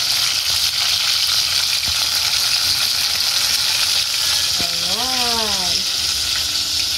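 Galunggong fish frying in a pan, a loud continuous sizzle throughout, with a brief higher tonal sound midway as the fish is flipped.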